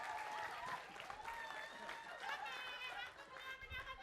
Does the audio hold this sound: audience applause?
yes